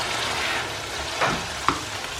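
Stew with Scotch bonnet pepper being stirred in a pan, a steady low sizzle with a couple of brief spoon scrapes, no talking.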